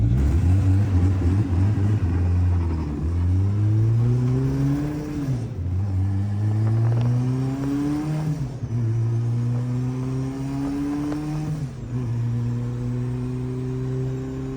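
A tuned, turbocharged Honda H22-engined hatchback making over 700 horsepower revs hard and climbs in pitch, dropping briefly at each of three gear shifts before pulling up again, loud and close.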